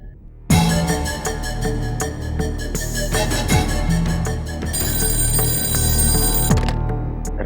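A telephone rings again and again with nobody picking up, a steady repeating electronic ring that is loud and close and runs almost the whole time before cutting off near the end.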